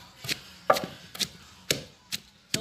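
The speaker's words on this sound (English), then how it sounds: "I'm pounding the akatwa or agushi" Akatwa (agushi) seeds being pounded for kontomire stew beside a coal pot: six sharp, separate thuds about half a second apart, close and moderately loud, with no talk.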